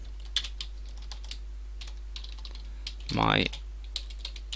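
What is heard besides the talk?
typing code on a computer keyboard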